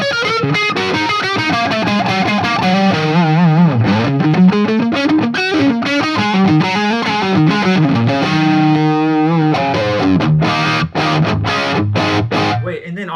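Electric guitar driven hard through a budget Amazon overdrive pedal with its volume maxed as an extra gain stage, playing a loud, continuous distorted riff of sustained chords and bending notes, close and unbroken for the whole stretch.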